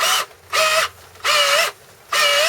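A Black and Decker cordless drill runs in four short, loud whining bursts of similar length, its motor pitch rising and dipping within each burst, separated by brief pauses, close by with no speech.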